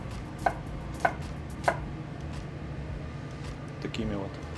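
Carrots chopped into rounds with a knife in a ship's galley: three sharp, evenly spaced knife strikes on a board, a couple of softer clicks after them, over a steady ventilation hum.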